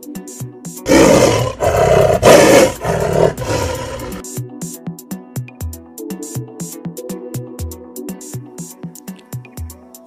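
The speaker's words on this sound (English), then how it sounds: "Tiger." A tiger lets out a loud, rasping roar in several surges over about three seconds. Upbeat music with steady plucked notes plays behind it and carries on after the roar ends.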